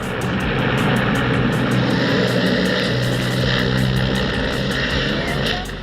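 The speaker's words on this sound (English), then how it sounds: "This helicopter was supposed to deliver the president of Bolivia, Evo Morales, but malfunctioned immediately after takeoff." A Bolivian presidential helicopter malfunctioning just after takeoff gives a loud, continuous engine roar with a rapid, rhythmic rotor thumping running through it, close and steady from start to finish.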